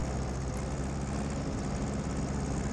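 A tractor engine idles steadily in Farming Simulator 19, a constant low droning hum with no change in pitch or loudness throughout.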